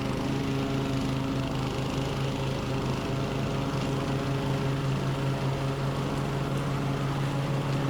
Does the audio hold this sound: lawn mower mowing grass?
yes